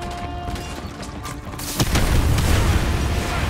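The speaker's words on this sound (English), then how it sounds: "why is everything exploding?" Explosions erupt in the Call of Duty Modern Warfare 2 Remastered game, a heavy boom bursting in mid-clip after mechanical clatter, then sustained rumbling blast noise filling the rest, loud and near.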